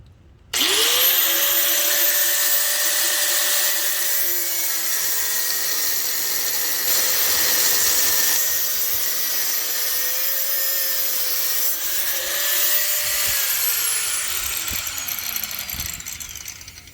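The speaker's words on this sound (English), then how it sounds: "so got my cutoff wheel. I'm gonna go ahead and just whack the sucker off." A cutoff wheel grinds steadily through a pipe piece in one long, loud, continuous whine that shifts slightly in pitch as it bites, then spins down at the end.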